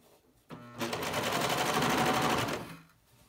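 Serger stitching a knit neckband, a close, rapid mechanical whirring chatter that starts abruptly, runs steadily for about two seconds at full speed, then winds down.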